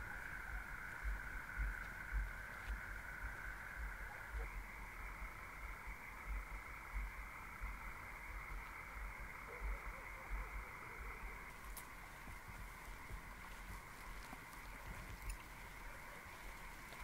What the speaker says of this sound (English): there's frogs on our driveway